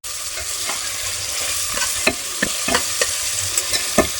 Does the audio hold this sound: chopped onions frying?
yes